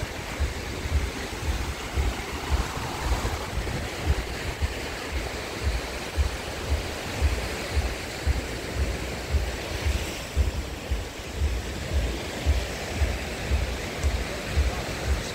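Surf rolls onto Chaweng Beach on Koh Samui, Thailand, in a continuous wash of waves with rhythmic low surges and some wind noise, steady and fairly loud throughout.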